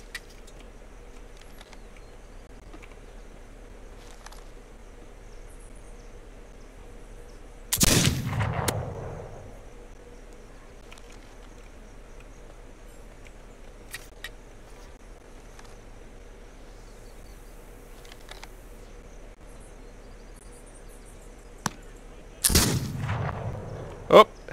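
Gunfire in the settler-defense video game This Land Is My Land: two sharp, loud shot bursts, one near eight seconds and another near the end, each decaying over a quiet ambient backdrop with faint insect-like hum.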